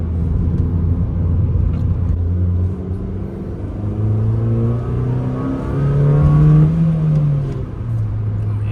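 A 2007-08 Honda Fit Sport with an Injen cold air intake accelerates through several gears, its engine note rising in pitch, dropping at shifts and climbing again, loud and close from inside the car.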